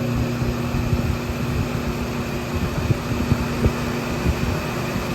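A Chevrolet Nova with a new Spicer 3-inch driveshaft runs near 3000 RPM, producing a loud, steady mechanical drone with a constant hum and no talk.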